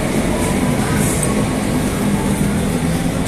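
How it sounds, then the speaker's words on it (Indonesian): A fast airport train rushes past in a busy urban district, producing a loud, steady rumble with a broadband roar that holds throughout. "Ini ada kereta melaju cepat, kereta bandara ya"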